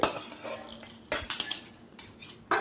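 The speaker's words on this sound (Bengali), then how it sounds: "আবার ঢাকা দিয়ে রেখে দিলাম" A lid goes onto a cooking pot of potatoes on a low flame, making a few close metallic clanks and clatters with a faint sizzle underneath.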